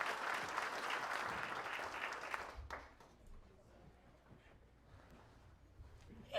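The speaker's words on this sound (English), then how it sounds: "Please, ladies and gentlemen, a round of applause, if you will, for Mimi LAZZARO, our Women in Racing Award recipient." Applause from a banquet crowd honoring the Women in Racing Award recipient at a dirt modified racing hall of fame induction ceremony, dense clapping for about two and a half seconds, then cutting off abruptly into quiet room tone.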